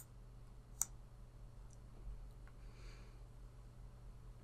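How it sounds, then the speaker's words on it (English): A single quiet mouse click sounds once over a steady low hum from a computer, with nothing else happening and no voices. "I'm going to click Restore"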